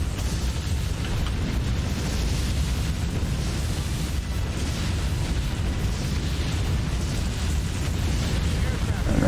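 An enemy aircraft carrier explodes in the naval combat game Warship Gunner 2, a loud, sustained, rumbling roar of blasts and booms rolling on without a break.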